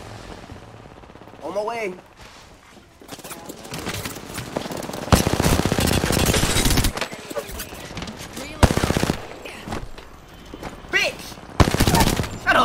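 Rapid automatic gunfire in Apex Legends, with bursts of machine-gun fire and fusillades coming in uneven waves across the clip. Players talk over the shooting at several points.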